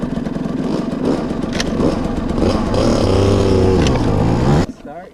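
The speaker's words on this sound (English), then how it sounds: "Start your bike for you." A motorbike engine, out on a camping ride, runs loud and close, rising in pitch as it revs up before cutting off sharply near the end, with voices talking over it.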